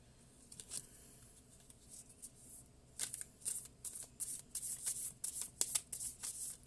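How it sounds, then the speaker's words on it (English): Tarot cards are shuffled close up in quiet surroundings, soft papery riffles at first, then a rapid series of crisp slapping bursts in the second half. "let's go ahead and shuffle this for Aquarius"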